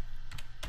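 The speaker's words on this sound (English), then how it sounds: "So in Linux, all I need to do is type" Keys clatter on a computer keyboard in a quick burst of a few close, soft keystrokes, alone and without speech.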